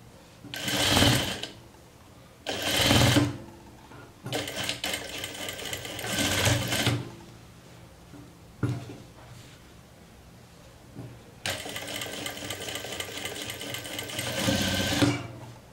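Domestic sewing machine stitching and backstitching a seam on a jumpsuit, loud whirring bursts of varying length separated by short pauses, close by, with occasional quiet handling noises between runs.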